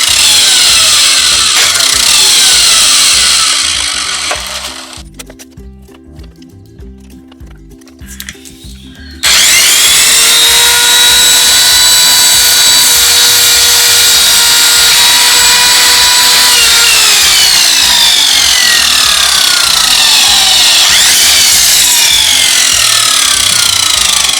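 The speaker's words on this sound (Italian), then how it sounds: "La lama taglia molto bene." Parkside PKS1500A1 miter saw motor running loud and steady, with a brief drop to near-silence before the blade cuts into wood with a sustained whining, rasping sound; no talking.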